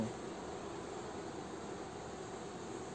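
A wild honeybee swarm handed to a beekeeper hums as a steady, dense buzz that stays even and continuous throughout, close and fairly faint, with no voices.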